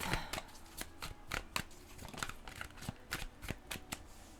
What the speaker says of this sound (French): on va sortir un petit 5 cartes